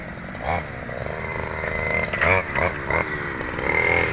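A grass cutter runs steadily while cutting grass outdoors, its buzzing engine loud and close, rising and falling slightly in pitch, with brief voices mixed in.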